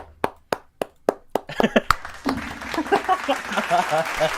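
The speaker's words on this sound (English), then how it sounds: "Applause." Several slow, sharp hand claps ring out one by one, then quicker, denser clapping follows at a small informal mock award show, with people talking over it.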